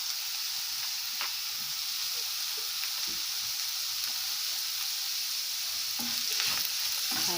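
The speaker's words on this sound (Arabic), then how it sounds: "هنزل بقى باللحمة زي ما انت شايفة كده يا قلبي" Minced meat sizzling in a pan with onions, a steady close frying hiss throughout with occasional faint stirring scrapes, no voices.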